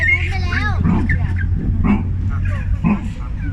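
A barking deer (muntjac) calls in its enclosure at the Chiang Mai Night Safari, seen from a tram, giving short dog-like barks under steady vehicle hum and people talking nearby.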